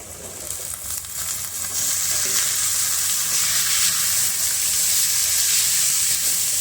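Potatoes and onions frying together in a pan for a Punjabi vegetable dish, a sizzle that builds over the first seconds into a loud, steady hiss, close and without talk.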